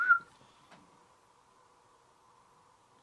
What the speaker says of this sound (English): Do you hear a whistle?